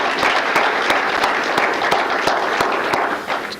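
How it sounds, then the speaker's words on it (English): Loud, dense applause from a crowd at an employee recognition awards ceremony, steady throughout with sharp individual claps standing out, tapering slightly at the end. "Let's have a round of applause for them anyway."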